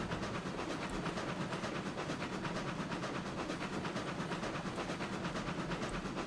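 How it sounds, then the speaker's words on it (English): A steam locomotive in RailRoads Online labours up a grade, a steady dense rumble with rapid rhythmic chuffing and hiss, continuous and fairly loud throughout with no talk. "And now we'll just have to see what this locomotive's got going up a grade."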